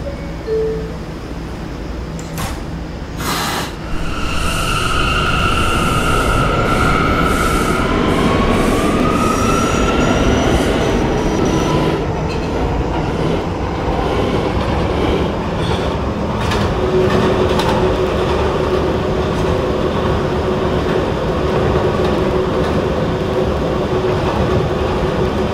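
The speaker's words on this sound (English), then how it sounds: "This is an Expo Center bound B train." An R179 subway train in a Roblox game rumbles steadily and loudly up close, with rattling wheels and a high squeal rising briefly over the continuous roar.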